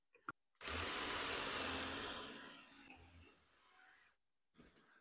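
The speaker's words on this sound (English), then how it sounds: "And let's see how long it takes to drill." A dull drill bit bores into a piece of pine, giving a loud, steady grinding rasp for about three and a half seconds after a brief tap, then tapering off and stopping, with no talking.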